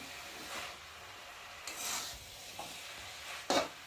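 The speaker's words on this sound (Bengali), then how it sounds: "দেখো ভালো করে নেড়ে দিই, নাহলে আবার তলায় লেগে যায়" Spinach is stirred in a pan, giving a faint, low sizzle with a few soft, brief scraping strokes of the spoon against the bottom.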